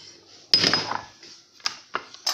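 Chopped ham tipped into a metal pot for michirones, a sharp clatter followed by a few lighter knocks and scrapes against the pot.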